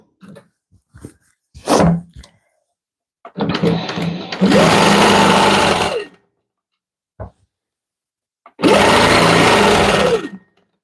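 A sewing machine stitches free-motion quilting through thread and fabric in two long, steady bursts, with short handling noises and quiet pauses between them.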